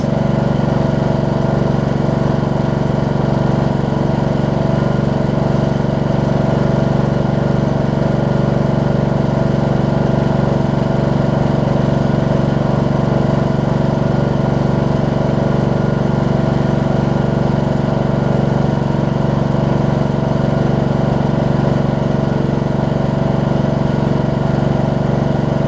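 A Briggs & Stratton Intek engine on a Snapper RER riding mower runs steadily at a moderate, held-back idle, a loud close drone with a constant low hum and no one talking.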